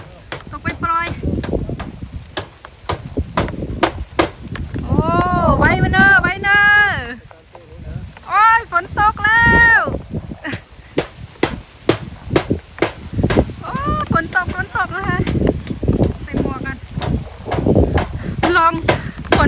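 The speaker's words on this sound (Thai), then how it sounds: "ฝนก็มาแล้วลมแรงมากเลยนะคะตอนนี้" Strong gusty wind buffets the microphone amid sharp patters of rain during a storm at a newly roofed rice-field hut in Thailand, while a person talks over the noise.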